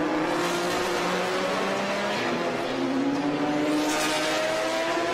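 A 2015 Porsche GT3 Cup race car roars steadily at full throttle during a Porsche Club of America race, its engine note bending slightly in pitch as it passes.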